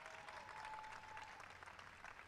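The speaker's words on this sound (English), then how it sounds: "Stand up, Phoebe, so everybody can give you a big round of applause." Quiet, distant audience applause for Phoebe at an evening astronomy event on the White House lawn, a soft steady patter of clapping with no talk.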